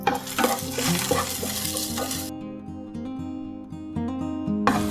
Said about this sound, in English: And stir it well until it's golden brown.